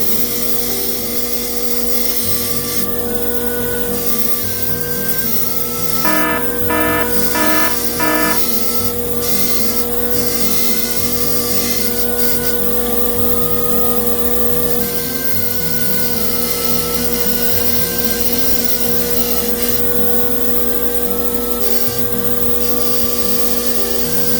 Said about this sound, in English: What we're going to do is we're going to use a bench grinder. We're going to clean it up.